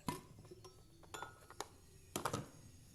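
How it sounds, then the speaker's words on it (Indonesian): A glass blender jar's lid is pulled off with a few sharp clinks and light clattering taps, quiet and close, spread over a few seconds with no talking. "Pertama-tama, buka tutup blender."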